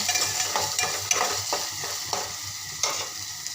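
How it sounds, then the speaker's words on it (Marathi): Chopped tomato sautéing in a pan for a spiced capsicum dish, a steady close sizzle broken by several sharp stirring scrapes, with no voices. "बारीक चिरलेला एक टोमॅटो घालते त्याला पण छान दोन मिनटं असं परतून घेतो"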